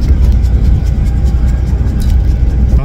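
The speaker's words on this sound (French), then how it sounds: "c'est l'aspiration d'air que j'entends qui fait vachement bruit, ça fait un comme une ventilation" A Peugeot 104 engine idles with a loud, steady carburettor air-intake roar, a continuous close rumble with a faint ventilating whoosh and no talk.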